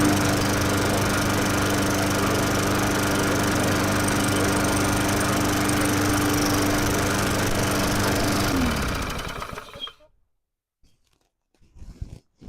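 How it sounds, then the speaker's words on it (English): Cheap gas lawn mower engine running steadily after starting on the first pull, a loud continuous buzzing drone that cuts off abruptly near the end, followed by near silence with faint handling noises. "First pull! What a beautiful mower!"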